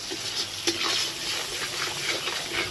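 Spices being stir-fried in a pan for a Chittagong-style mixed-vegetable pachon, giving a steady close sizzle with soft scraping and one brief louder clatter, with no talking.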